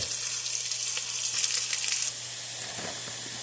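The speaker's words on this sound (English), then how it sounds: "I'm going to saute the veggies, then set them off to the side so I can brown the meat" Vegetables sautéing in a pan for chili give off a steady, bright sizzle, hissing loudly at first, then settling down a little. No one speaks.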